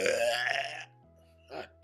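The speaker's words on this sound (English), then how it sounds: "That was a loud ass burp that nigga just did." A single loud, drawn-out burp from a man after gulping Dr. Pepper, followed by a brief quieter vocal sound.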